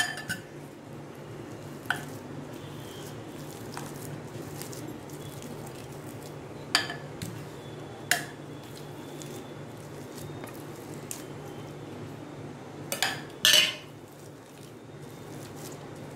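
Boiled potatoes are mashed smooth in a bowl, soft squishing and pressing strokes with occasional sharper clinks of a utensil against the bowl.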